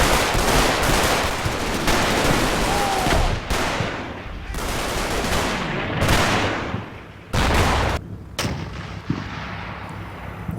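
Machine gun and artillery fire in the Normandy 1944 war game Combat Mission Normandy as attacking infantry is cut down in an orchard: loud, dense bursts of gunfire with heavy booms, sustained and overlapping, no talk.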